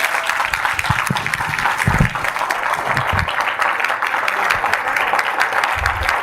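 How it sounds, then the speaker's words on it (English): An audience gives a hearty round of applause for Ron Williams at a pre-launch event in Las Vegas, loud continuous clapping throughout with a few low thumps and handling bumps mixed in, no speech over it. "can I get a proper applause for the one and only Mr."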